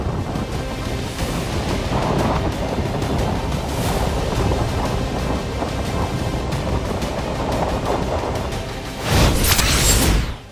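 Sea waves pound the shore during Cyclone Montha, a loud continuous roar of surf and wind with a heavier crashing surge near the end, no voices.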